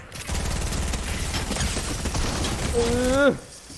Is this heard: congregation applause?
no